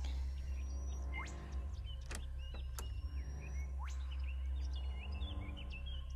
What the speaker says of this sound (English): Boy, those birds are loud.